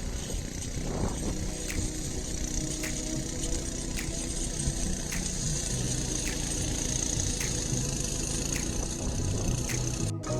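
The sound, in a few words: mini excavator engine running while clearing weeds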